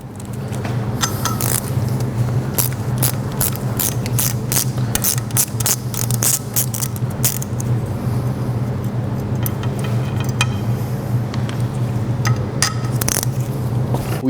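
A hand wrench works the hub assembly nuts on an Elva Porsche front upright, with scattered metallic clicks and scrapes over a steady low hum, close by and without speech.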